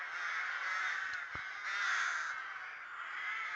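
A communal rookery near Ellon, many rooks cawing together in a dense, continuous chorus heard from some distance, with no voices over it.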